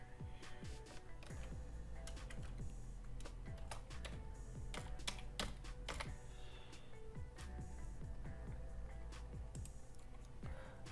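Typing on a computer keyboard, entering a job search term: rapid irregular clicks and key taps close to the microphone, fairly quiet and continuous with brief pauses, no talk.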